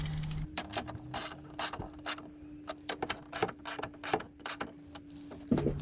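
Ratcheting clicks from tightening a clamp on the cold air intake of a 2002 Ford F450 with a 7.3L Powerstroke diesel, a close series of quick mechanical ticks and bursts over a faint steady hum.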